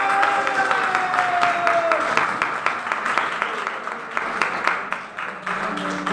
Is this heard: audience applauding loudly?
yes